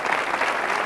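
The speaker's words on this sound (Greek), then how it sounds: "Πολλά χειροκροτήματα βλέπω και λίγη δράση." Studio audience applause on the 1993 Greek game show To Megalo Pazari, a short, steady burst of dense clapping with no talk over it.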